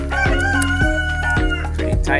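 A rooster crows loudly and close by, its call layered over repeated low rhythmic thumps.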